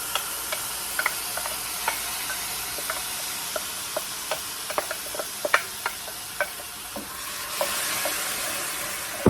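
Tomato salad sizzles gently in a pan with garlic while a utensil stirs it, leaving a soft, steady frying hiss broken by frequent light scraping taps.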